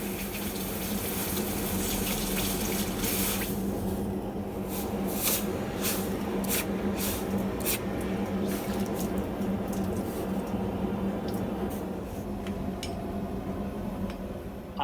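Hot steel swage parts, heated to critical temperature, quenched in water give a steady hiss and sizzle of boiling water, with brief sharper bursts, close and continuous.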